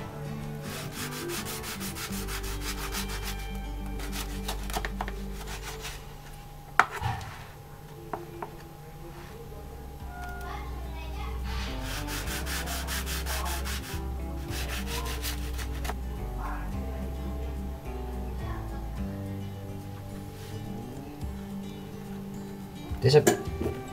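A knife saws through toasted bread rolls filled with sausage, repeated close scraping strokes in several bursts over a steady background hum, with occasional knocks against the board.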